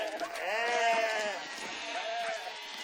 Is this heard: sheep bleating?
yes